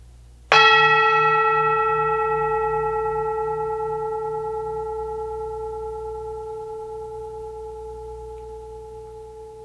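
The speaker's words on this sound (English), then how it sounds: "I'm going to hit the singing bowl." Singing bowl struck once with a sharp attack, then a clear, steady ringing tone that slowly fades over several seconds, close and alone.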